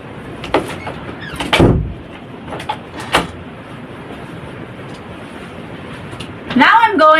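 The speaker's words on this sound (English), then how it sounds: "I'm going to close the door so no one could distract you during our procedure" A door is shut in a patient's room during a nursing procedure, giving a dull thud at mid-loudness amid quiet room noise and a few small knocks, with a brief rustle near the end.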